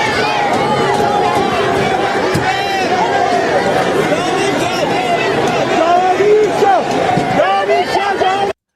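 A huge protest crowd in Mashhad, Iran, roaring and chanting together in a loud, dense wall of voices that carries on without a break.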